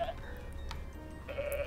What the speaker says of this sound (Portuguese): Que voz bonita você tem, cabra.